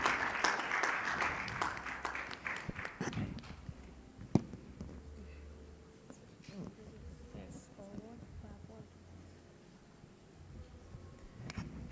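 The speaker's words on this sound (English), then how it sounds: "you can clap for her as she comes." Audience members at a youth pitching event applaud as a presenter walks on stage. A burst of clapping at the start thins to scattered claps, with talk in the room underneath.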